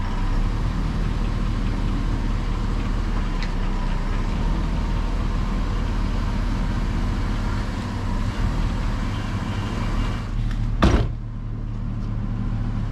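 A repaired 2004 Chevy Avalanche with a 5.3L LS V8 runs steadily with a low, constant engine drone throughout, and a brief sharp clunk near the end like a door or shift thump.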